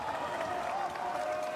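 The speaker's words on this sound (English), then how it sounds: "Crowd makes some noise." Basketball arena crowd during a Japan versus China game, a steady wash of crowd noise with faint clapping, fairly distant and even, while a voice talks over it.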